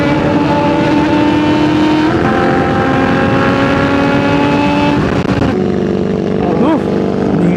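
A Yamaha R1 sportbike engine revving, a loud, close, sustained inline-four whine with rising and falling pitch sweeps, overlapping a second motorcycle's engine while a rider talks.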